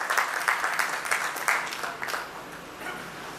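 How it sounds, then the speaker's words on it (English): An audience at a real estate tower launch event applauds with brisk, fairly dense clapping that thins out toward the end, close and moderately loud. "Round of applause."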